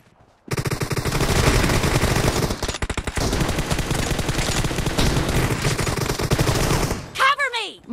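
Sustained bursts of automatic gunfire from a PUBG Mobile match rattle loudly and continuously for about six seconds, then cut to a brief swooping game effect near the end.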